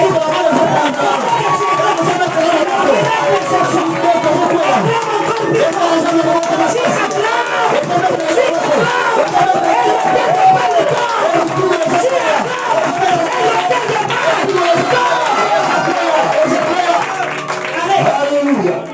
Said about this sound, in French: Est-ce qu'il y a quelqu'un qui peut acclamer?